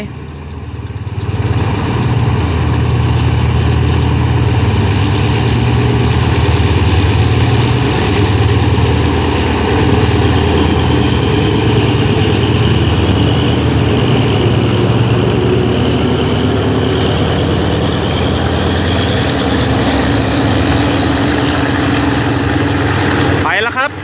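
A heavy diesel locomotive engine roars loudly and steadily as it revs up at Salaya railway station, a deep throbbing drone that holds for a long stretch.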